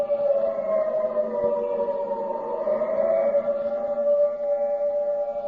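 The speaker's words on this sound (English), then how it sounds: "The siren is a musician of no value, knowing only one tune" An air raid siren in an old-time radio drama wails steadily, a loud sustained tone that rises and falls gently and continues alone.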